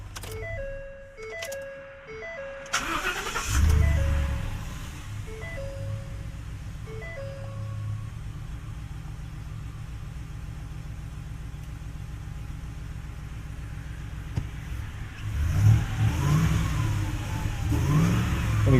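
A 2016 Ford F250 with a 6.2L engine suffering a misfire and running rich idles roughly at close range, then revs with a hesitant delay before the engine note climbs, steady and loud throughout.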